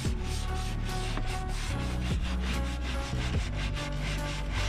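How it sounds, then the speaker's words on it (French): A bristle brush scrubs the teak wood deck of a boat in rhythmic back-and-forth strokes, each a close, raspy rubbing swish repeating roughly every second, with no voices. "c'est pas parce que tu vas appuyer fort que ça va bien frotter parce qu'en fait tu écrases les poils sur le bois"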